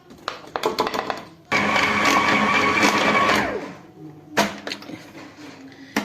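Electric mixer kneading sticky brioche dough as flour is added: a loud motor whir runs for about two and a half seconds, then fades, framed by short clattering knocks and scrapes before and after.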